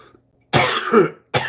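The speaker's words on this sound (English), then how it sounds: "my cough has got significantly better" A person coughing up close, one harsh burst followed by a second cough, with a short silence before and between them; the cough is easing but still present.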